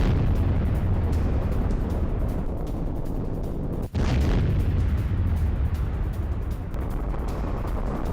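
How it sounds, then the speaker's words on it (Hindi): Loud, continuous low rumble of explosions from a Russian Su-34 airstrike on a Ukrainian ammunition depot in Kharkiv, with heavy booming roar throughout and one abrupt cut midway. "रूस ने Su-34 से एम्युनिशन डिपो को किया तबाह। रूसी एयर स्ट्राइक में यूक्रेन को बहुत बड़ा नुकसान।"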